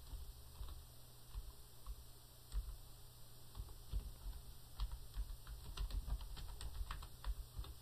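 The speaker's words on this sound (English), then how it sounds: "I'll press tab, and then I'll type the regular description." Computer keyboard being typed on while entering an item description in accounting software, a steady patter of soft light key clicks over a faint constant hum.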